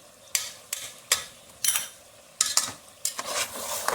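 A spoon stirs chicken with spices frying in a pan, giving sharp scraping strokes roughly every half second over a soft background sizzle, close and clear, with no talking.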